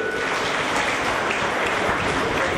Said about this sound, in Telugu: ఒకసారి వాళ్ళకు కూడా మనం కృతజ్ఞతగా చప్పట్లు కొట్టాలండి